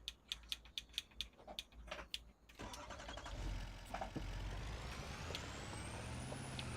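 A Dodge truck in Farming Simulator 25, with a string of evenly spaced clicks or beeps followed by the engine starting and a steady, loud running hum with a rising whine, and no talking.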